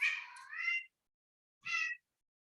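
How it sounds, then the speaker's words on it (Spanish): A house cat meows twice indoors while complaining at being shut in, a long drawn-out complaining cry followed by a shorter meow after a pause, clear and fairly close. "el gato se me queja de que quedó encerrado"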